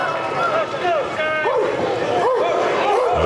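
A loud crowd at a professional wrestling match yelps and woofs in imitation of dog barking, several voices overlapping in rising bursts amid a general roar of cheering.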